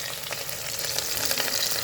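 Broad beans (chikkudukaaya) sizzle steadily in a hot pan with turmeric, a dense, close frying hiss with light stirring clatter throughout, no voices.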